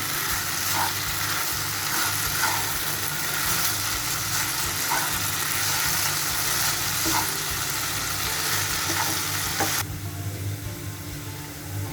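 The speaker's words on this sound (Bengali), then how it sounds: "আলু ভাজার এই পর্যায়ে আমি কিছুটা জিরা অ্যাড করে দিচ্ছি" Potatoes frying in a pan with turmeric, a steady crackling sizzle with occasional stirring knocks, close and continuous, dropping slightly in level near the end.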